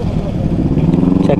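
Motorcycle with a stock exhaust revving its throttle up close, a loud pulsing mid-pitched engine burble that quickens toward the end.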